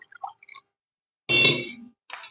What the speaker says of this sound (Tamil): இதோட கொஞ்சம் தண்ணி ஆட் பண்ணிக்கலாம்.